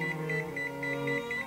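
A kitchen timer beeps in a repeating pattern of short, even electronic bleeps over a steady hum, close and moderately loud, with no one talking.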